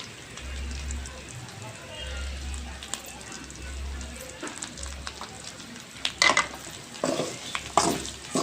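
Chicken frying in a pan with chili powder, a soft sizzle under stirring scrapes and clinks, with low rumbling hum bursts and a few sharper utensil knocks near the end.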